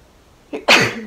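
A single sneeze, close and loud: a short inhaled catch followed by a sharp burst that trails off quickly.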